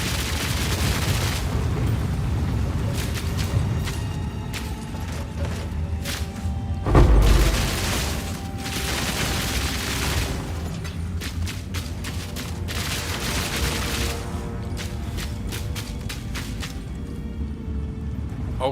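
Path of Exile 2 combat with a crossbow on a Witch Hunter: continuous dense gunfire-like booms and bursts roll on throughout, with one heavier blast partway in.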